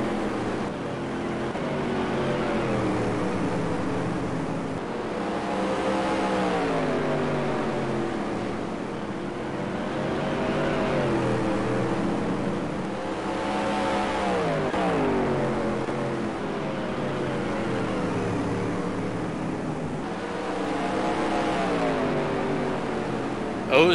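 Supermodified race car engines roar around the oval at Sandusky Speedway, loud and continuous with rising and falling waves as the cars pass in a close single-file pack.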